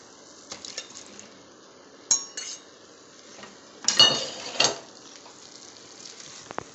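Metal utensils scrape and clink against a pan in several sharp bursts, with faint sizzling underneath, as chicken is added to pepper chicken gravy and stirred.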